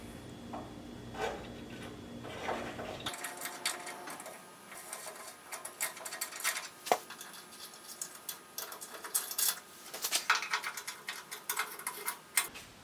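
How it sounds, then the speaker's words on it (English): A 1/4-20 thread tap run through lubricated threaded mounting holes while restoring a vintage bandsaw, giving close, irregular ticking and clicking scrapes in quick bursts that grow busier toward the end. "put a little lubricant in there, and I'm going to run the tap through them."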